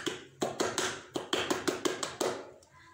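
A group of children claps the Pramuka scout rhythm, louder and more energetic on the second try: about a dozen crisp claps in a brisk pattern with short pauses, ending on one last clap.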